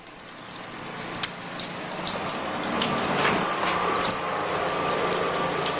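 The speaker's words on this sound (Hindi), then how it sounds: "इतना पानी जाया कर रहे हैं ये लड़के।" Water running from a tap in a bathroom, a steady splashing hiss that grows slightly louder, with light clinks and rattles mixed in and no talk.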